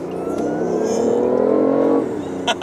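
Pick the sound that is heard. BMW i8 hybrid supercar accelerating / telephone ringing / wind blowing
BMW i8 hybrid supercar accelerating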